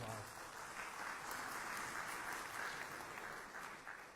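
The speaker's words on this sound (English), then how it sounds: "we can give him a round of applause." An audience at a senior scam prevention summit in Vista applauds a mayor, heard as a steady, fairly faint wash of clapping through a distant sound system that holds evenly before easing off.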